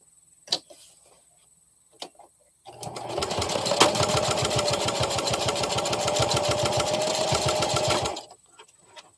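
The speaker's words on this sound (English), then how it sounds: "So we have to sew the little dart in all of these legs." A sewing machine stitching small darts into the fabric legs of a plush chameleon runs in one steady, close whirring burst of about five seconds. A few faint clicks come before it and a brief pause follows.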